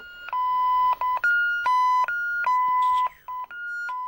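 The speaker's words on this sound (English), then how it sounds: "the beeping sounds that the scanners make" A handheld warehouse scanner at Amazon beeps in quick succession, alternating two tones, some short and some sustained, loud and close with no talking.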